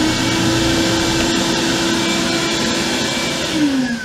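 A spindle sander keeps whirring steadily after being switched off, a loud, close, constant hum that starts to drop in pitch as it winds down near the end.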